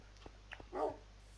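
Dogs bark in the video game Minecraft, a few short, faint yaps and a slightly longer bark in quick succession over a low background hum.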